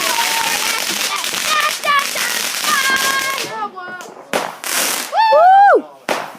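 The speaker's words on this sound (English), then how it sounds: "Yeah, fireworks." Fireworks at a display crackle and pop in a quick series of bursts, followed by a few whistling shells rising, with people chattering and exclaiming close by.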